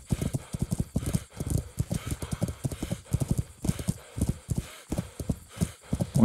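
Horse hooves clop in a steady, rapid rhythm as a horse travels along a path in the medieval video game Kingdom Come: Deliverance, the footfalls close and continuous with faint ambient background.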